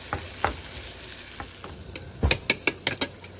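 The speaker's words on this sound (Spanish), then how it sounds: "y lo vamos a revolver" A utensil stirs organic potatoes frying in a pan, with a soft sizzle underneath and a quick run of close scraping clacks against the pan near the end.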